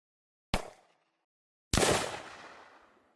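Weapon fire from an Unreal Engine Nazi Zombies video game: a sharp, loud shot cracks out alone, then after a pause a second heavier burst follows with a long ringing decay.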